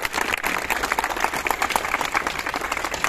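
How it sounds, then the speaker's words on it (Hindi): An audience at an Independence Day celebration claps steadily and densely, a continuous crackling applause from many hands with no pause. "तो एक बार आप लोगों के लिए जोरदार तालियों का खुद ताली बजाए और अपना सम्मान के लिए"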